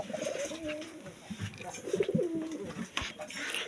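Sirazi and local domestic pigeons cooing at close range, soft rolling coos repeating in overlapping phrases with brief pauses while the birds come down to feed.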